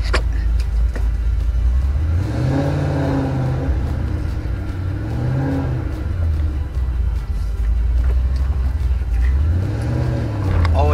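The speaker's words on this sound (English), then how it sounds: "Let's see how she sounds while driving." A 2007 Ford Mustang GT V8 with aftermarket cams drives along, its engine a loud, close, deep rumble that rises and falls through several gear pulls from inside the car.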